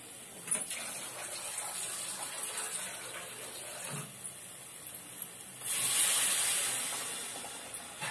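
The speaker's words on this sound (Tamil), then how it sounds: "இப்ப இதுல வந்துட்டு தேவையான அளவு தண்ணி ஊத்திக்கலாம்." Water poured into sautéed masala for a Tamil crab curry (nandu kulambu), a steady hissing pour with a louder splashing burst near the end, close up.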